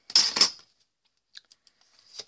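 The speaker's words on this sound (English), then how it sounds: "using our scissors" Scissors snipping through paper while cutting out paper gnome parts: a close, crisp double cut at the start, followed by a few faint light clicks and rustles.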